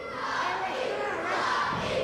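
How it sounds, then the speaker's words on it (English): Wrestling fans in an arena yell and chant together, a dense, roaring crowd noise of overlapping shouting voices that holds steady and swells slightly, heard from within the hall. "You can hear the fans in the background yelling Rocky."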